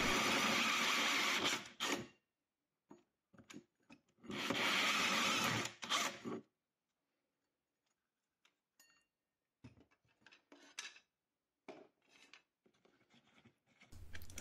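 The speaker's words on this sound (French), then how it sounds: "j'utilise la scie cloche pour percer le placo" A hole saw cuts through plasterboard in two loud grinding bursts of about two seconds each, separated by quiet pauses, followed by softer scraping and handling noises.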